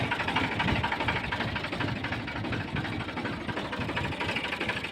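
An old New Holland 4710 tractor engine idles close by with a steady, even diesel chug and throb, unbroken and alone for the whole stretch.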